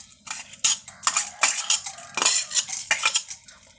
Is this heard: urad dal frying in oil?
yes